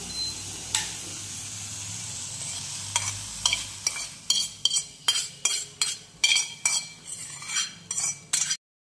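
A spoon mixes soaked semolina batter with salt for rava appe, making a quick run of rhythmic scraping and clinking strokes against the bowl. They get sharper and more regular toward the end over a low background hum.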